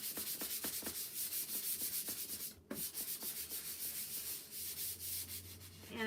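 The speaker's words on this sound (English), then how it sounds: "I'm still gonna sand it a little bit to get it nice and smooth for my stencil" Sandpaper rubs over a painted wooden sign in steady back-and-forth strokes, close and continuous with a brief pause midway; no one speaks.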